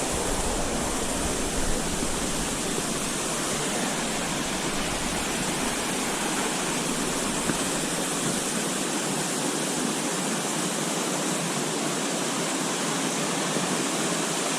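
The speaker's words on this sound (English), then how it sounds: "There's the rest of the waterfall." A waterfall on Little River Trail roars in a constant, broadband rush, loud and steady from start to finish with no voices.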